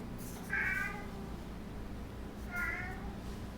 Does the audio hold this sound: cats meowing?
yes